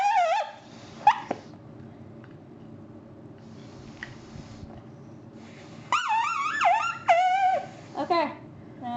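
Shrill, wavering whistles blown through a short cut plastic straw come in brief bursts near the start and again toward the end, each squealing and bending in pitch over low background rumble.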